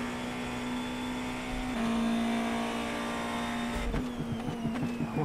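A race car engine in the iRacing sim holds a steady high drone, then drops pitch briefly as it shifts and climbs again, with a sharper rasping burst near the end; no talking.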